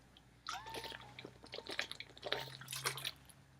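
Water poured into a glass and handled up close, with brief liquid trickles, soft drips and small gulping or sipping sounds over a few seconds, quiet and intimate.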